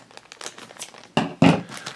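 Plastic blind bag pack being torn open by hand, a burst of crinkling at the start followed by two louder, close rips of plastic with no talking.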